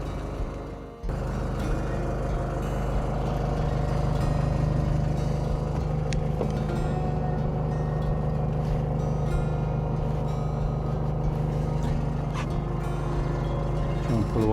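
A low, steady narrow boat engine drone rumbles continuously after a brief dip at the start as the boat pulls away slowly, close by, with water churning faintly.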